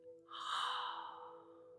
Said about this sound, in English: make a soft fogging sound like you're breathing onto glass or cleaning your glasses